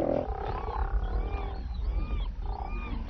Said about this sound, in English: This is a haul-out for these noisy marine mammals.